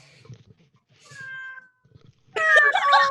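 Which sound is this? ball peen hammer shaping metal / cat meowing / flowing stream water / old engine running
cat meowing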